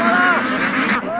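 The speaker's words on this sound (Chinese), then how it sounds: "稻田旁边的水塘里活跃着另外一种水生的家禽——鸭子" Brown-feathered domestic sheldrake ducks on a pond beside rice paddies give loud, close, nasal honking calls in a quick burst.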